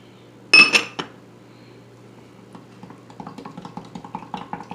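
A spoon clinks against a bowl while a Jamaican-style coconut milk bread pudding mixture is stirred: a sharp metallic knock first, then a run of light, rapid taps and scrapes growing steadily busier.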